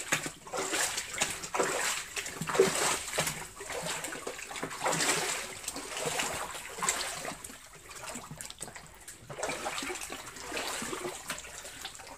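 An underground river runs through a tunnel beneath the cathedral in Guadalajara, a steady rushing, splashing flow that swells and eases, close and echoing, with almost no voice over it.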